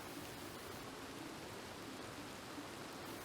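Steady rain falling in a Wild West roleplay in Red Dead Redemption 2, a faint, even hiss of downpour with no voices.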